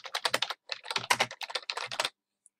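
Computer keyboard typing in quick irregular bursts of close, crisp key clicks, with a brief pause midway and a final lone click after the typing stops.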